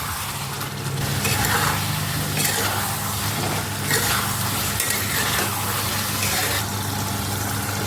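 An egg and potato curry with garam masala sautés in a pan, a dense, close sizzle mixed with repeated stirring scrapes and bubbling.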